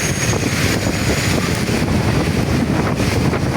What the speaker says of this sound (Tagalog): Malakas lang talaga yung hangin.